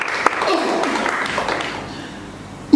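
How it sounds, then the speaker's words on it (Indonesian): A church congregation claps together during a worship service, a burst of steady applause that gradually fades out, with some voices mixed in. "Kita beri tepuk tangan buat Tuhan Yesus."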